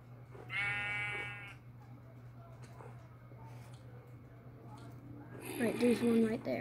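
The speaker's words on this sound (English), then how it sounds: "Could hear the sheep." Sheep bleating in Minecraft, two short bleats, one early and one near the end, with quiet game ambience and a low hum in between.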